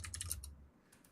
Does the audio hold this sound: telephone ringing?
no